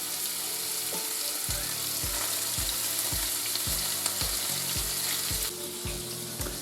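Venison tenderloin sears in hot oil browned with garlic powder, a steady loud sizzle with a regular series of low thumps and clatter beneath, continuing throughout with no talking.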